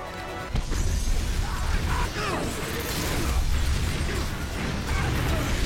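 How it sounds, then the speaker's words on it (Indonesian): Bridge explosion and collapse in an action film: a sharp blast at about half a second gives way to dense, continuous crashing and rumbling debris that stays loud to the end. "Jembatan meledak."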